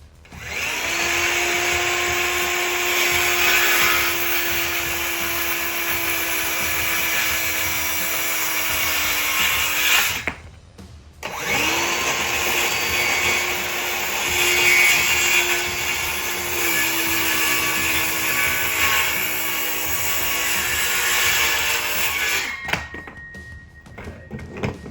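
A DeWalt power tool whines continuously while an old fence is built into a pet gate, running in two long bursts with a brief stop between them and a steady motor tone throughout.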